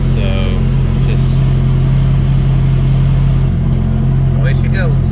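A Mitsubishi Evo 8 engine idles on a cold start with no throttle, a steady low droning hum that runs throughout, while a person talks over it.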